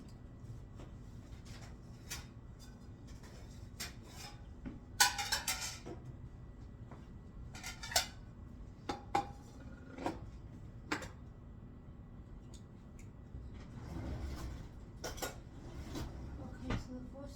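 Dishes and cutlery clink and clatter in a kitchen while boneless BBQ pork chops are plated, with scattered sharp taps and scrapes, a louder burst of clattering midway, and quiet handling between.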